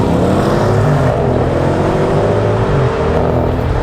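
A 2018 BMW M550i xDrive with 480 lb-ft of torque pulls hard under full throttle, its engine note climbing steadily through the revs in a loud, continuous, somewhat muted roar with no speech.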